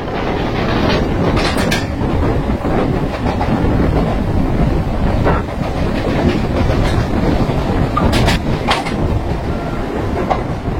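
The Samaleswari Express, running from Jagdalpur to Howrah, passes close by on Indian Railways track, a loud, continuous roar of wheels and carriages with steady clickety-clack over rail joints lasting the whole stretch, with no voices.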